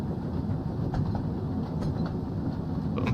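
A train engine in Thomas & Friends: Wonders of Sodor rumbles steadily along the track, a continuous close rolling drone with faint rail clatter.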